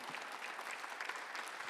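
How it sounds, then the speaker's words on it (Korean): Congregation applauding during a Korean church Sunday worship service, a steady patter of many hands clapping at moderate distance, fairly quiet and unbroken for a couple of seconds with no talk over it. "올 걸 믿는 사람만 박수를 하는데 다시 오시리라"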